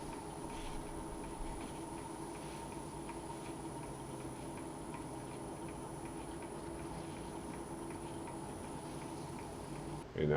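A wood lathe spins a pine vessel during finishing, giving a continuous even hum with a faint rhythmic ticking, steady and close throughout, with no talk.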